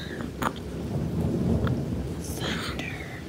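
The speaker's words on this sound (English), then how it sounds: "It's thunder." Low rumbling thunder rolls through for a few seconds, steady and moderately loud with faint hiss, as an adult whispers and speaks softly nearby.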